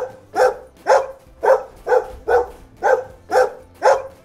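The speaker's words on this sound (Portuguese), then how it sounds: "Muito bem, esse é o cachorro." A dog barks eight times in a steady, evenly spaced rhythm, each bark sharp and close with no other sounds around it.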